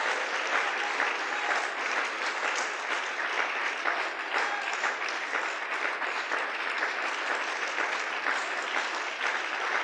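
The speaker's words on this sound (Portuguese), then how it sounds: "aplaudimos fortemente pela glória de nosso Deus" A church congregation stands and claps hard in praise, a dense, even roar of many hands sustained for about ten seconds without letting up, close and with no talk over it.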